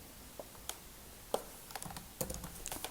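Keys clatter on a computer keyboard as Python code is typed, scattered quiet clicks and taps in irregular bursts, close and fairly soft, with no voices.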